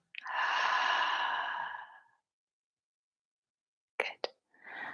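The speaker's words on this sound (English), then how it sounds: "slightly open your mouth and let the breath go" A long, breathy exhale through a slightly open mouth lasts about two seconds, close and soft, followed by silence and then short breath sounds and a brief inhale.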